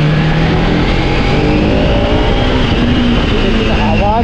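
A Bajaj Pulsar RS 200 motorcycle engine revs loudly and continuously up close, a rising and falling roar that fills the whole stretch.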